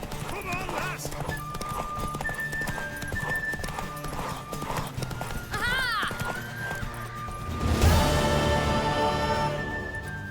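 Hooves clip-clop at a gallop with a horse neighing in a Witcher 3 video game scene, steady rhythmic hoofbeats close by, with game voices and music over the hooves.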